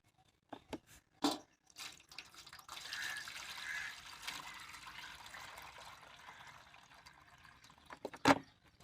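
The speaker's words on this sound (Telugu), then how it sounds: "ఈ టమాటా వాటర్ని మొత్తం ప్లేట్లో వేసుకొని ఆరిపెట్టుకోవాలి" Tomato water pours steadily onto a plate for a few seconds with a soft splashing trickle, framed by a few clinks and knocks of handling, quiet and close.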